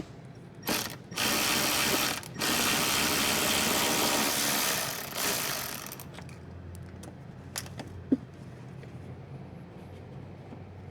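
Ratchet with a 10 mm socket backing out a front bumper bolt on a 2018-2020 Honda Odyssey, producing two close, steady bursts of rapid clicking, then quiet with a few faint taps.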